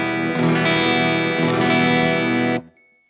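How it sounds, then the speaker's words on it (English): Distorted electric guitar chords through a Blackstar HT-20RH MkIII tube amp head with the voice switch engaged, a loud, dense sustained strum that cuts off abruptly, leaving a brief fading tail. "So you can hear it gives it kind of more of a mid-range immediacy, and it kind of focuses the guitar."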